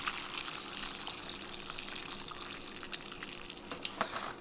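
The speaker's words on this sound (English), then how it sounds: "just pour in a little bit of hot water" Hot water pours into a wok of chow mein and splashes softly with a gentle gushing hiss and a few sharper sizzling ticks, fairly quiet and continuous.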